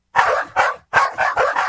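A dog barks in a radio advertisement for a pet product, giving five loud, close barks in quick bursts with a short gap after the first two, with no voice over them.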